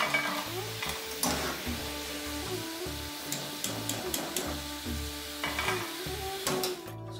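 Potato wedges lightly coated in cornstarch frying on high flame in a pan, a steady close crackling sizzle with bursts of louder spattering and stirring, no talking.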